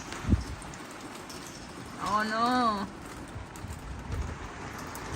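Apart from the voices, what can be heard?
sudden hail and rain shower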